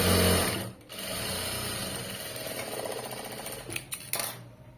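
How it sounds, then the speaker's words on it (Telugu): A sewing machine stitches straight along the edge of cloth, giving a fast, steady mechanical whir that dips once briefly, then runs on and ends in a few short, choppy bursts. "ఇలా క్లోజ్ చేసుకుని స్టిచ్ చేసుకుంటూ వెళ్ళిపోవాలి"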